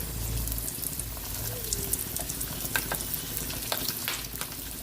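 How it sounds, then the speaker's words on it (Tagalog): Pork belly (liempo) frying in hot oil, a dense, close, continuous sizzle with scattered pops and crackles spitting through it, loud and steady across the whole stretch with no voices. "magpiprito tayo ng ating liempo"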